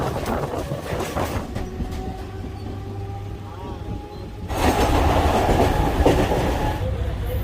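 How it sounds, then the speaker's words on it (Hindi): Slow Mumbai local train heading to CSMT, heard from onboard as a loud steady rumble with rhythmic rail clatter and faint wheel squeal that swells louder partway through. "ये SMT जाने वाली धीमे वाली ट्रेन है।"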